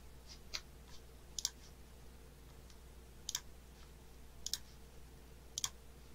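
A computer mouse clicked five times at uneven intervals, each a crisp, close, quiet click, with a faint steady hum underneath.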